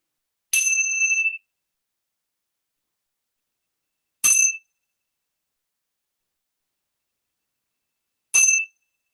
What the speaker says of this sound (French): laissez résonner en vous la sonnerie de la cymbale à 3 reprises